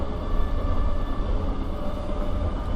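An HST train in a train simulator video game, a steady low rumble of running wheels and motor, continuous and fairly loud with no speech.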